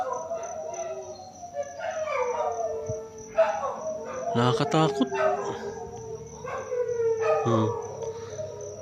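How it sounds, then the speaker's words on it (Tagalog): Dogs howl in long, wavering cries, rising and falling over several seconds, with a person speaking briefly over them. "pagdating ng alas 3, umaalulong yung mga aso"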